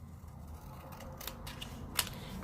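Scissors cut through paper along a drawn line for a tea bag holder craft, giving a few faint snips and crisp clicks over quiet room tone, with one sharper snip near the end.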